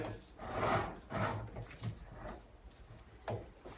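A plastic pump tube slides into a quart bottle of axle fluid and the cap screws on, giving soft rubbing and scraping bursts with a few brief knocks. The sounds are close and quiet, with no one speaking.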